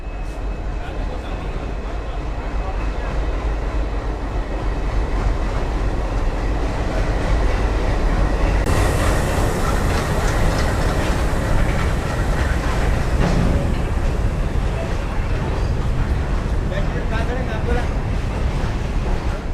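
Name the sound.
Indian freight train arriving at Purna station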